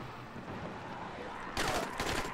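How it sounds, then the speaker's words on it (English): Enemy gunfire in the video game Dying Light: steady background noise, then a sudden dense burst of shots that keeps going to the end, fairly loud and close. "Ah, he's still firing at me."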